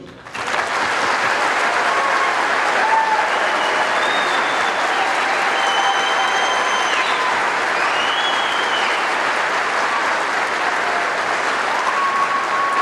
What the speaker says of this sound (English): please join me in a round of applause for our newest American soldiers